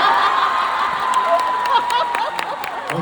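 Concert crowd at a live pop show in Macau applauding and cheering loudly, with dense clapping, shouts and high whoops from a large audience filling the space for a few seconds.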